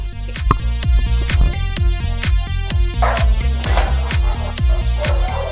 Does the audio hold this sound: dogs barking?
yes